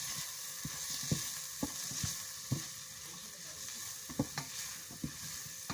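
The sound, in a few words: stirring spices frying in hot oil for chicken roast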